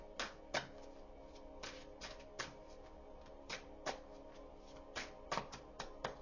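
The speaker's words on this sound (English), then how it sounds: "Let me just shuffle this a few more times." A deck of tarot cards is shuffled by hand, with soft riffling bursts and light taps repeating at an irregular pace. The sound is close and quiet, and no one speaks.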